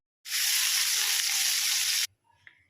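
Pieces of Shankar fish fry in hot oil, a loud, close, hissing sizzle that runs for about two seconds and then cuts off abruptly, with no talk.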